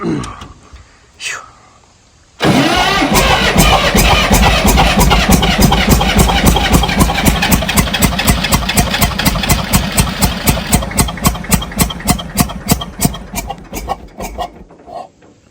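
A 1962 Massey-Ferguson diesel tractor engine cranks and catches abruptly, then idles loudly with a steady, rapid chugging knock that becomes more distinct and pulsing over time, after some brief quiet talk.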